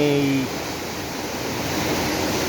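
Water rushes steadily down a man-made mini dam slide of stacked stones in Bitan, Xindian, Taipei, a broad continuous roar close by, with a voice speaking briefly at the very start.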